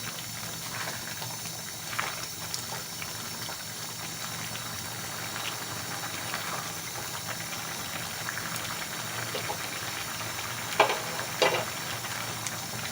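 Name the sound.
beef liver (kaleji) frying in oil over high heat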